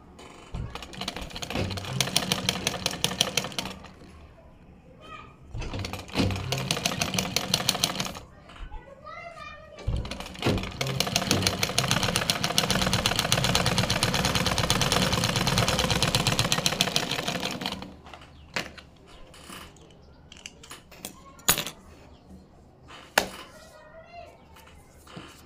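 Sewing machine stitching piping around the neckline of a kameez, bursts of rapid rattling stitches close up, alternating with someone talking in the quieter pauses.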